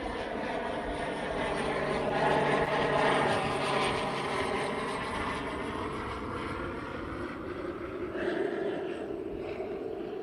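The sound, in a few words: airplane flying overhead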